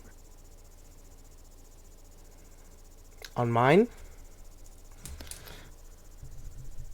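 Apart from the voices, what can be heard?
crickets chirping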